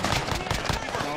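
Rapid gunfire in the video game Warzone, a burst of loud, closely spaced shots with a voice briefly mixed in.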